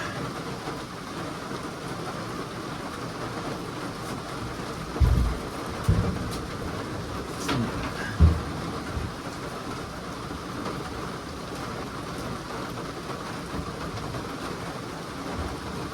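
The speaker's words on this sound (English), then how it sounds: "it's downpouring up there" Heavy rain pours down outside a camper under restoration, a steady broadband hiss throughout with a few soft low thumps from work inside.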